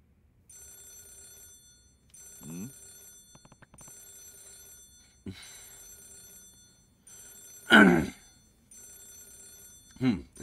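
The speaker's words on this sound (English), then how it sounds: "Is that the phone?" A telephone rings inside the video game Yakuza 0, repeated bursts of electronic ringing separated by short pauses, clear and up front, with someone speaking loudly between the rings.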